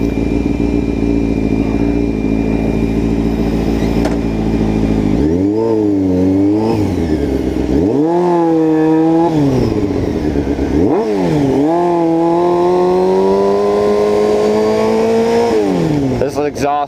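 A motorcycle with a very loud aftermarket exhaust idles with a deep rumble, then revs and accelerates in repeated rising and falling surges while riding, close and dominant throughout.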